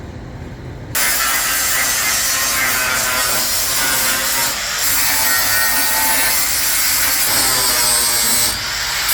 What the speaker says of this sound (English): what Dad's grinding off is the stumps from the old bumper